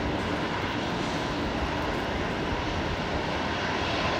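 Dash 8 Q400 turboprop airliner at Brisbane Airport at night, a steady, loud broadband engine roar that holds evenly throughout with no voices over it.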